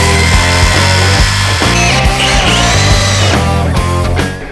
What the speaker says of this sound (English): I'm actually running the Trexo low so I can score the plywood